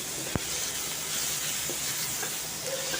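Ginger garlic paste sizzles with browned onions in a pan, a steady, fairly faint hiss with a brief sharp crackle near the start and no one talking.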